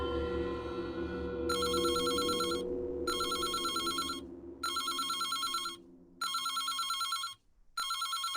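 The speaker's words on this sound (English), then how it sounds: "The phone again." A telephone in the video game Reverse: 1999 rings in five regular electronic bursts with brief gaps, over a low, quiet ambient drone.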